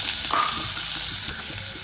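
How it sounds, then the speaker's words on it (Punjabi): Onions frying in hot oil with browned cumin for a tinda curry, a steady, loud, close sizzling hiss that slightly quietens toward the end, with no talk. "ਹੁਣ ਪਿਆਜ਼ ਆਪਾਂ ਪਾਤਾ ਇਹਨੂੰ ਹਲਕਾ ਬਰਾਊਨ ਹੋਣ ਦੇਵੋ"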